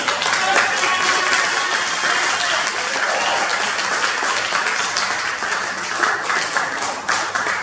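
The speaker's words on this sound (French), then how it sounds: "Acclamez." Congregation at an evangelical church service clapping and applauding steadily for several seconds, a dense sustained burst of many hands filling the room, with voices mixed in.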